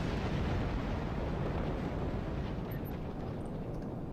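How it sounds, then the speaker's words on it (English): A torpedo's secondary explosion in Star Trek Online rolls out as a deep, rumbling roar that stays loud and sustained for several seconds before easing slightly, with no voices. "that Harpang torpedo is still going to have a secondary explosion"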